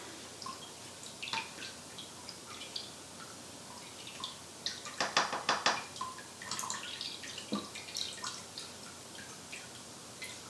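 Fire cider liquid drips from a pressed strainer bag into a container, faint, irregular drops and small splashes over quiet room tone, with a brief cluster of handling noise midway.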